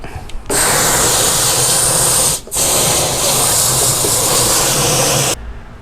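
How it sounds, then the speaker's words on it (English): A hose sprays water hard into a boat's livewell for cleaning, giving a loud, steady hiss that cuts off briefly for a moment and then resumes until it stops near the end. "So let's go ahead and spray this out a little bit."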